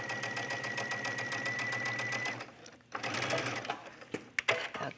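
A sewing machine stitches a gathered tunic collar in a steady, fast whirring run for about two seconds, then stops; afterward come softer handling noises and a few sharp clicks nearby.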